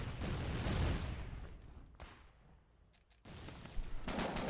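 Gunfire in the war video game Foxhole during a frontline push, dense bursts of shots and rumbling blasts at the start, a lull, then renewed loud firing toward the end.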